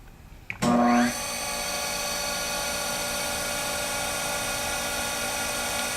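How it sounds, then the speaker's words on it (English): A Harig 612 automatic surface grinder's spindle starts with a sharp surge, then settles into a steady, even whine and hum that holds for several seconds, close and fairly loud, with no talk. "Start the spindle."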